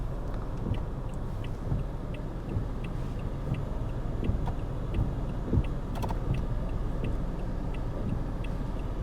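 A car's turn signal ticks steadily and faintly in a quick, even rhythm beneath a constant low rumble of engine and road noise inside the vehicle.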